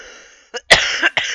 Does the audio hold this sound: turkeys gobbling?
no